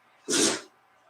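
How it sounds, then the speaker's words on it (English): A single sharp sneeze bursts out close by, loud and brief, with quiet room tone before and after. "I can hear you sneezing over there."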